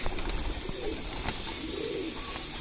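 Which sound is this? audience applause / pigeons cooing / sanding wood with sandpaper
pigeons cooing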